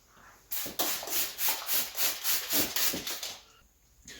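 Aluminum valve covers from a 1970 Chevy Nova being scrubbed with fine 00 steel wool: a steady run of close, rhythmic rasping strokes, about a dozen back-and-forth passes, alone with no talk.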